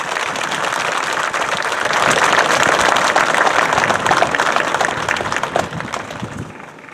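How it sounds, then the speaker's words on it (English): A graduation ceremony audience breaks into loud, sustained applause that swells and then slowly fades over several seconds, dense clapping from many people in a large hall. "Let's give them a round of applause."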